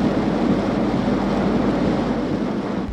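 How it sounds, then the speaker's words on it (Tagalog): Large waves pound the shore of Barangay Kauwakan, Ilocos Norte, facing the West Philippine Sea, heard as a loud, continuous roar of surf with strong wind buffeting the microphone. "malakas na ang hampas ng mga naglalakihang alon sa baybayin ng Barangay Kauwakan"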